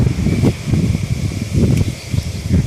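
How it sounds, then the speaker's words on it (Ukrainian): Wind gusts rustle through blooming iris flowers in rising and falling waves, a soft, close, continuous swishing with no voices. "коли вітер дує і вони так хитається"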